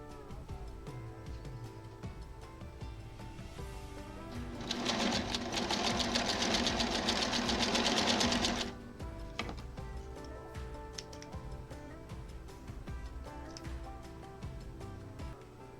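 A domestic sewing machine stitches a quilt block in one steady, close burst of fast whirring lasting a few seconds, with quieter handling noises before and after.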